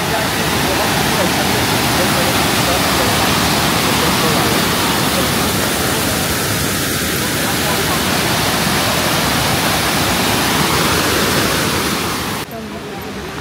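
Constant heavy roar of a waterfall at Plitvice Lakes, a dense broadband wash of falling water heard close and loud without pause, cutting off abruptly at the very end.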